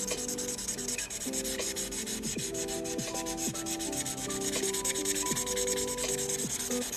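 A marker rubs back and forth across paper while coloring, a continuous close scratchy friction broken by short high squeaks as the tip drags, with no voices.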